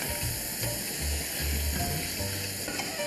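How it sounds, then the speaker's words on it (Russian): Pasta is stirred in a pan of mushrooms in a creamy sauce, giving a steady soft sizzle with light scraping at close range and no voices. "Перемешиваем"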